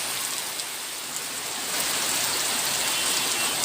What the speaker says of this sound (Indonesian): Ini dia situasi di Kedabuan pada saat hujan-hujan gini bosku.